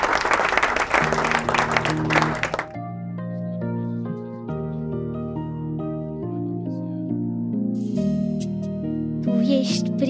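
Audience applause for a singer on a Romanian television show, a burst of loud clapping that quickly gives way to music.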